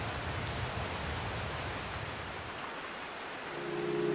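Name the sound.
rain downpour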